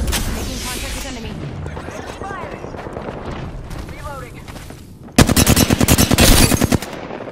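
Loud rapid automatic gunfire in Apex Legends erupts near the end in a sustained burst, following a stretch of game sounds and talking voices.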